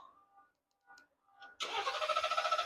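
A 2017 Ford F150 Platinum 3.5L Ecoboost cranks and fires after quiet background talk, then settles into a close, loud, rhythmically pulsing engine run.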